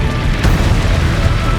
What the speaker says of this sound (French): provoque une explosion massive qui détruit la salle de compression et les compartiments mitoyens